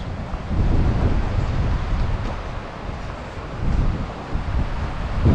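Strong wind buffets the microphone on the rocky Aegean coast, roaring in uneven gusts that swell and ease, with a wash like surf beneath and no voices.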